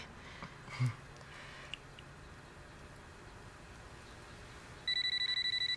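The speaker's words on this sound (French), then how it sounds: "Le téléphone n'a pas sonné tout l'après-midi, puis là, juste au bon moment." A telephone begins ringing near the end, with a steady repeated electronic ring after a mostly quiet stretch of room tone.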